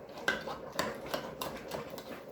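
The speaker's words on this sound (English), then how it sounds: "I'm just chopping these stewed tomatoes up so they won't be big old pieces" A knife chops stewed tomatoes on a board in a home kitchen, giving about six soft, evenly spaced thuds close by with no voices.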